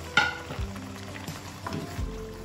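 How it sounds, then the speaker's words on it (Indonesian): Galangal, lemongrass, bay leaves and lime leaves are sautéed in a pan, giving a soft, low sizzle broken by a few light clinks and stirring knocks. "Kita tumis bumbunya, lengkuas, sereh, daun salam,"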